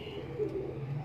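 A brief stretch of gentle, throaty cooing from pure Mian Sahib pigeons, including a female, kept by a breeder in inner Lahore's Delhi Gate, steady and near with little talk over it.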